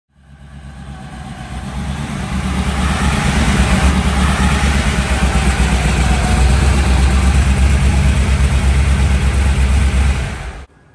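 A big block 1955 Chevy with a four-speed runs steadily at idle for about ten seconds, a loud, deep, continuous rumble close by, with no talking.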